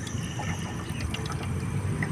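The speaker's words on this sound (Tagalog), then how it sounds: "ayan, nalagyan ko na siya ng tubig" Water poured onto a quick-seal patch on a leaking roof, a steady soft trickle and splash over a constant low background, with faint scattered drips and no talk.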